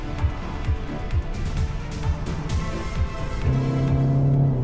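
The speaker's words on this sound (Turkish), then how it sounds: "Kök dedik. Aynı zamanda vites düşürdük." A petrol Citroen C5 Aircross accelerates hard after a downshift during a drag race, its engine note climbing steadily and growing louder toward the end amid road and wind noise.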